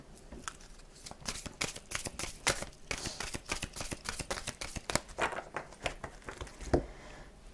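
Tarot cards are shuffled and cut by hand in a run of quick, crisp riffling snaps and slaps, close and fairly soft, with no talking.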